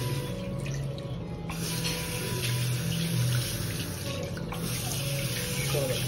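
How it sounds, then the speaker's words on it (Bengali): Water runs steadily from a tap while hands are washed with hand wash at a restaurant sink, a continuous splashing rush with a faint voice in the background throughout. "হাতটা ধুয়ে নিই, হ্যান্ড ওয়াশ লাগিয়ে হালকা করে।"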